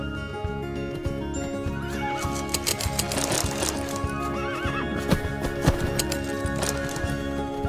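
Wild horses in the video game Horse Club Adventures 2: Hazelwood Stories neigh and whinny over steady clip-clopping hooves, several animals close by with no talk.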